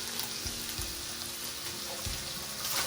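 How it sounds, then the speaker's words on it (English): A pound of ground beef cooking in a pan for baked ziti, giving a steady, close sizzling hiss with a few soft low thumps scattered through it. "while I'm cooking the beef"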